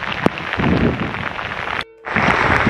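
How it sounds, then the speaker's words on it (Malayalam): Rain falls during an off-road trip in the hills of Idukki, a steady close hiss of drops with a sharp tap early on and a brief near-silent cut before the downpour resumes. "മഴ നനയുകയാണ് സുഹൃത്തുക്കളെ,"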